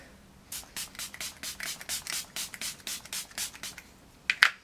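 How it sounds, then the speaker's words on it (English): Pixie Makeup Fixing Mist, a rose water and green tea setting spray, spritzes in a quick rhythmic series of about fifteen short, hissing pumps, close and fairly soft, with no talking. "I'm just gonna use a little bit of setting spray."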